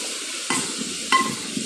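Dried anchovies fry in a pan for a village-style curry, a steady close sizzle with two sharper bursts of crackle partway through, no talking.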